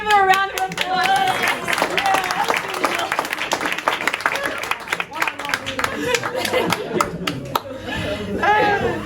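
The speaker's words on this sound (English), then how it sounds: "We'll give them a round of applause." An outdoor community crowd gathered for a Queen Street tactical urbanism event applauds steadily for several seconds, loud and close, with voices and some chuckles mixed in.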